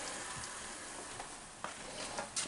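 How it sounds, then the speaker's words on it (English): Ground beef browning in a large 10-quart pot for stuffed peppers, giving a steady soft sizzle and frying crackle with a few small pops and stirring scrapes, fairly quiet and with no talking. "I'm browning the beef."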